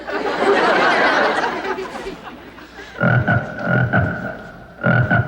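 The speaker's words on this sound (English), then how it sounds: "Oh, that's just one of his experiments, a 26-foot frog." A giant frog croaks in a sitcom sound effect, several deep, loud, rhythmic croaks in quick pulses, following a burst of studio laughter and chatter.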